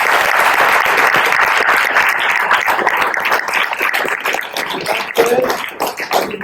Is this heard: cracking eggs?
no